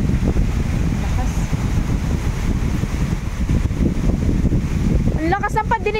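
Strong typhoon wind from Typhoon Uwan roars steadily and loudly across the microphone, buffeting without pause, with a brief voice-like sound near the end.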